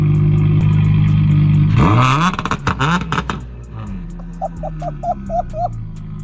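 Turbocharged Nissan 350Z engine doing two-step revs: a steady idle gives way to sharp revving with rapid popping bursts, then settles to a rumbling idle with a faint chirping sound.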